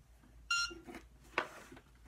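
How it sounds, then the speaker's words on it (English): A speedcubing pocket timer gives two short electronic beeps about a second apart, close and clear against faint room noise. "let's do a time solve with the pocket timer"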